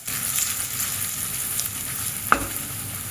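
Tadka of asafoetida and Kashmiri chilli powder sizzles steadily in hot oil, a close, even crackle with a sharp stir or clink near the end.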